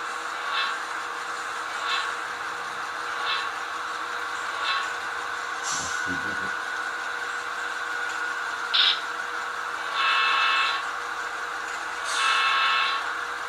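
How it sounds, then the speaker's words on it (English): A model passenger train running on a model railway layout gives a steady, fairly quiet rolling hum. Faint short horn-like toots rise from it at intervals, and the train sounds mostly alone. "we're going to follow this passenger train around the layout."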